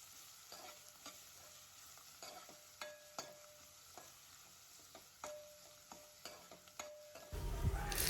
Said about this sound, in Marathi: तेल गरम झाल्यानंतर त्यामध्ये वाटून घेतलेलं लसूण आहे ते या तेलामध्ये टाकून घेऊया आणि लसूण लालसर होईपर्यंत परतून घेऊया